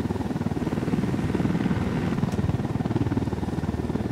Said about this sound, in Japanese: ヘリが来るぞ。